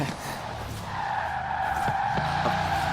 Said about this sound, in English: This is a very, very loud engine.